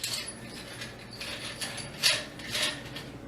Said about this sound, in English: You just screw the one end to the other.